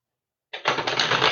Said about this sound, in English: shuffle the tarot